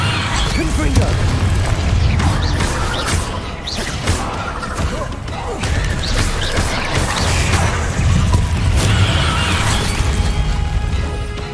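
Confringo fire blast spell in the video game Hogwarts Legacy, loud booming bursts and crashing impacts repeating through dense combat noise, with some voices mixed in.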